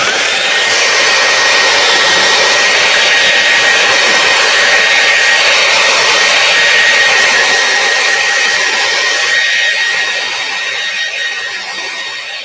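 A hair dryer blows continuously at close range over freshly cleaned artwork, a loud steady whooshing whine that eases slightly in volume near the end.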